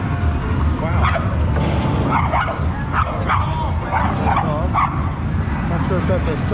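A dog in a shopping mall barks and yips with whimpering cries, repeated through a busy indoor din of people talking and moving about.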